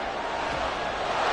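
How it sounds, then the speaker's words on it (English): Football stadium crowd noise swelling ahead of a big third-down play, a broad steady roar of many voices with no single voice standing out. "the crowd getting into it as we come up on a big 3rd down"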